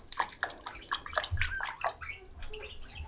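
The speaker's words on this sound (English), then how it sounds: "So I'm gonna dip this piece of fiber in and see what happens." Fiber dipped into an indigo iron dye vat, with quick splashy sloshes and drips of liquid close by, coming in several short bursts with no talk.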